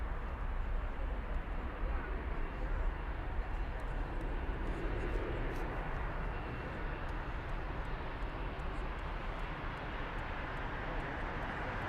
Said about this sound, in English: we'll switch it over to that 747, maneuvering the maze of taxiways here at Frankfurt